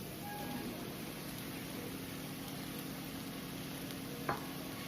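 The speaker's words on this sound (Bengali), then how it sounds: "এবার এর মধ্যে আমি ভাজা ফুলকপিগুলো দিয়ে দিচ্ছি।" Soft, steady sizzling of fried cauliflower added to cooked spices in a pan, with a brief clink of a utensil near the end.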